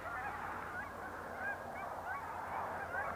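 Wild geese fly in over a hunting spot in Canada, honking repeatedly at a distance, with overlapping calls from the flock sounding steady and faint against a quiet outdoor background.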